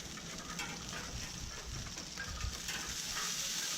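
Burgers sizzle on the hot grate of a Gateway Drum smoker, a soft continuous frying hiss with light metallic scraping, fairly quiet and steady throughout.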